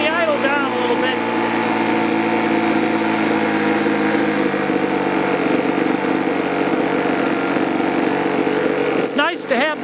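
Small 2-cycle blower or trimmer engine idling steadily at close range after a carburetor replacement, a loud buzzing drone that drops slightly in pitch as the idle is turned down, with a brief rev near the end.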